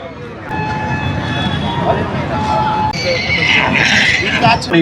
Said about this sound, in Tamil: இப்போ ரைடிங்க்கு குதிரை வருவாங்க.